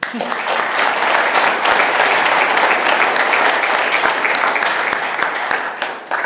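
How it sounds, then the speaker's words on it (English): A conference crowd at NetDevOps Days London 2023 breaks into loud, dense applause that holds steady for several seconds before tapering at the end. "Huge round of applause for Miles, please."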